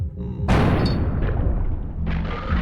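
A dealer fires a shotgun in the tabletop gambling game Buckshot Roulette, a single loud booming blast with a heavy low thud that rings out and decays over a couple of seconds, followed by a faint mechanical rattle.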